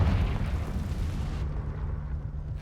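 A Confringo fire spell blast in Hogwarts Legacy gives a loud, rumbling explosion that bursts at once and then decays into a low, fading roar.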